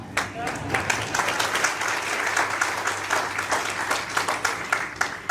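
An audience at a public talk breaks into sustained applause, many hands clapping in a dense, moderately loud patter that carries on without pause.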